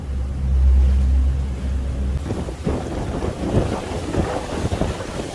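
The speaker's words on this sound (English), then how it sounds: "That wind's kicking through here." Wind gusts roar over a Tiara 38 LS boat on the water, a heavy low rumble that gives way to a broad, churning rush of wind and water noise, loud and close with no talk.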